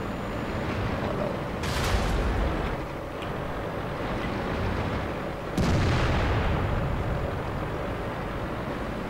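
Tank cannon fire in World of Tanks, a light tank's shots coming as two sudden booming blasts that roll off into a dense rumbling battle din, loud and close.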